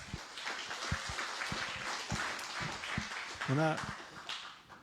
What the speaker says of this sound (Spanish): otra vez un aplauso muy fuerte para nuestro Señor